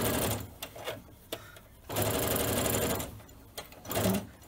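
A sewing machine stitching a cloth face mask seam, running in close, loud bursts of rapid needle clatter separated by short pauses.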